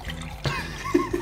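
Carbonated apple spritzer fizzes softly in a glass, a brief, faint hiss with light trickling and tiny bubbly pops, close by.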